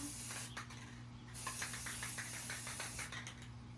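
A spray paint can hisses close by as chairs are painted, a steady spray with a few rapid puffs and shifts in strength, over a low background hum with no talk.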